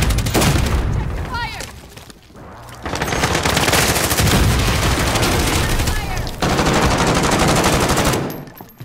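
Sustained automatic gunfire in Call of Duty: Modern Warfare, loud and dense, bursts breaking off briefly around two and six seconds before resuming, with shouted voices mixed in.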